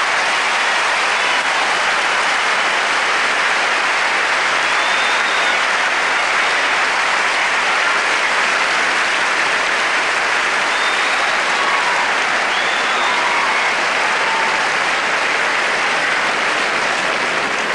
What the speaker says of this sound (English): Well, Virginia, the applause from the crowd.